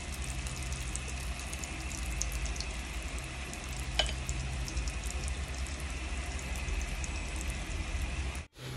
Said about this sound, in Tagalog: Start na tayo magprito